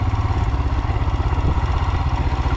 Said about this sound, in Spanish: Entonces la moto va chocando contra todo.